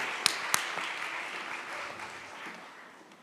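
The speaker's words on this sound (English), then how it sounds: "Let's greet the Miss Multi-Talented with a big round of applause" Quiet, distant audience applause at an opening ceremony, starting with two crisp nearby claps and then settling into a soft, diffuse patter that slowly fades.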